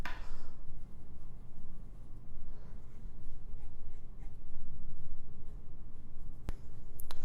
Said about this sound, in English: Let's do some live writing here.